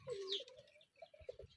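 Pigeons cooing at a racing pigeon derby arrival point, several soft, low coos with a brief chirp, close by and fairly quiet, without talk.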